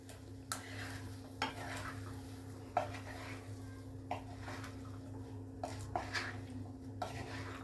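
A spoon stirs a mango pickle mixture in a pan with faint scraping and occasional light taps against the metal, soft and close over a steady low hum.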